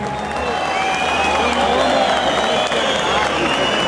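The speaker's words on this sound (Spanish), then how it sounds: "el aplauso de bienvenida para la banda güeril de Nuevo Colón" A welcoming crowd greets the Nuevo Colón band from Boyacá, Colombia, with continuous applause and cheering, a dense roar of clapping and voices mixed with amplified hall ambience throughout.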